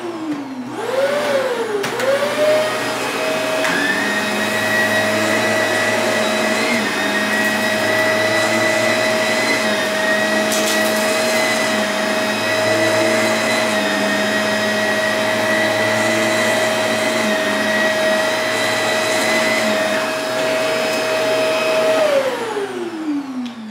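A Shark Rotator Powered Lift-Away canister vacuum runs in a loud, continuous motor whine, revving up at the start, holding steady for about twenty seconds, then winding down at the end.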